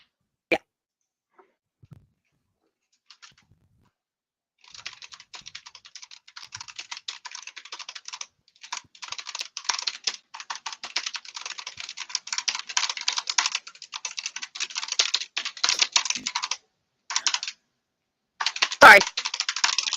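Rapid, uneven clicking of a backlit computer keyboard being typed on, close and fairly loud, starting after a few quiet seconds and running in bursts with short pauses, plus one sharp knock near the end.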